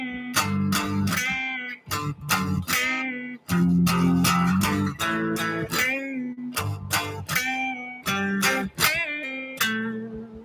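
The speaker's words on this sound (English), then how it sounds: "here's something where you can play strum chords and add some bending to it into more of a" Electric guitar riff: strummed chords in rhythmic bursts with short gaps, notes bending upward, loud and close, no voices.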